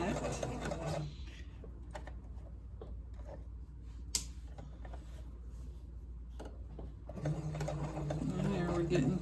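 A sewing machine stitches a collar in short, whirring, ticking bursts, busiest at the start and again near the end with a quieter pause between. A voice can be heard softly in the background.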